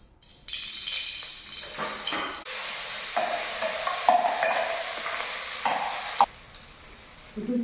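Oil sizzling and frying in a wok, with stirring and rattling of a utensil against the pan; steady close sizzle throughout, no talking.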